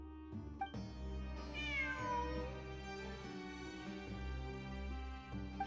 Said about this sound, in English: I'm not hearing things. It really is a cat.